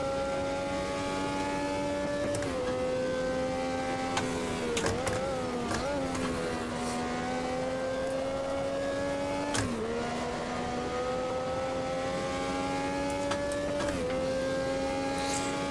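Race car engine in the Automobilista 2 sim, loud and constant throughout, its harmonic drone shifting in pitch through gear changes and revs, with occasional sharp clicks over the steady roar.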